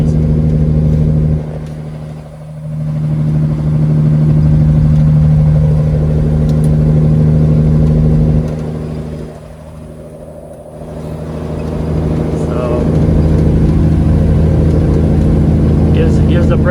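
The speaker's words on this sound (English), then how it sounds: "my engine brake's able to hold it right around 16 and a half" A semi truck's engine brake holds speed on a downhill grade, a loud steady low drone with a constant hum that dips twice and swells back, heard from inside the cab.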